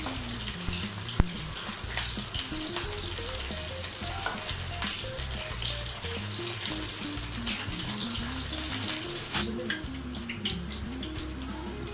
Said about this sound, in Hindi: सारे वेजिटेबल को अब सौटे करते हैं।